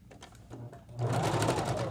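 A sewing machine stitching a drawstring bag, first a quiet lighter rattle, then a steady loud whirring hum of rapid stitching for the last second, close by.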